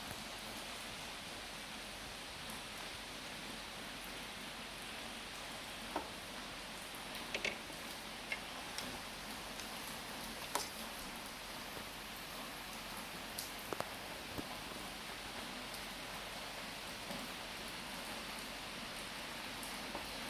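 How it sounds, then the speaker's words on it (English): Steady rain falls on a garden, a dense even hiss with occasional louder drops and ticks standing out, no voices. "I think that my garden is going to be very, very happy with this rain"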